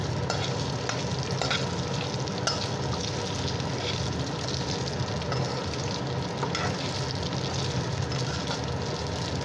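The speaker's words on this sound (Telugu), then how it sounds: "వీటిని ఇలా ఫ్రై చేసుకుంటారు అన్నమాట" Evening snacks fry in a pan with a continuous close sizzle while they are stirred. The bubbling stays steady and loud, with faint scraping and clinks, and there is no talking.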